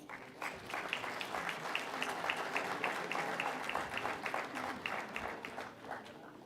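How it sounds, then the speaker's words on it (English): Audience applause for dignitaries at the Startup Mahakumbh 2025 event in India, a steady moderate clapping from a crowd sustained throughout, slightly distant in a large hall. "Ladies and gentlemen, a round of applause for our esteemed dignitaries."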